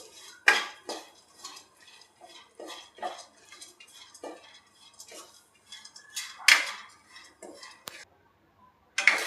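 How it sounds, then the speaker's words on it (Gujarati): A spoon scrapes and clinks against an iron pan while moong dal roasts in ghee over low heat, making irregular close metallic strokes and taps with short quiet gaps between them. "આપણે લોહીમાં દાળ નાખી દઈશું. ધીમા ગેસે આપણે શેકવાની છે એકદમ ગોલ્ડન બ્રાઉન થાય ત્યાં સુધી."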